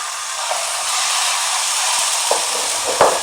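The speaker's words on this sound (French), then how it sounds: "Je commence par frire mes morceaux de poulet dans de l'huile" Oil sizzles loudly and continuously as chicken pieces fry, with a dense, bright crackle, a few small pops breaking through near the end.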